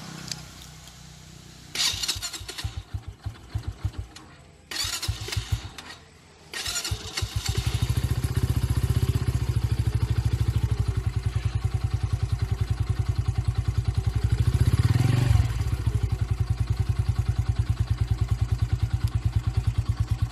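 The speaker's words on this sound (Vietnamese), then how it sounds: "mình sẽ bắt đầu là nổ máy lên trước để cho các bạn nghe thử là cái tiếng máy" A Yamaha YB 125SP motorcycle with about 2,500 km on it cranks in a few clattering bursts, catches, and settles into a loud, close, steadily pulsing idle that rises briefly partway through.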